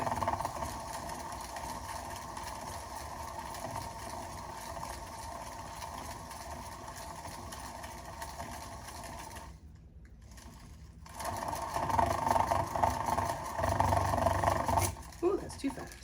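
A paint pouring spinner whirs steadily with a fluid acrylic blown-flower pour on it, its motor hum cutting out briefly partway through, then resuming louder and slightly faster near the end.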